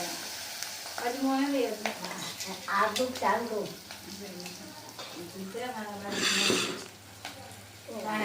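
Spices tempered in hot oil like a vegetable seasoning, with asafoetida and turmeric added, sizzle and crackle steadily up close in bursts, while someone talks over the frying.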